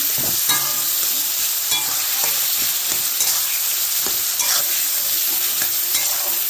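Turmeric stirred into frying food in a pan for an eggplant mash, a steady bright sizzle with repeated scraping strokes of the spoon running through the whole stretch, close and fairly loud.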